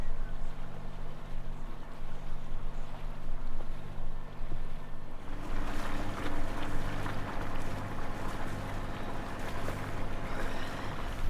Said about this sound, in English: We got the wind.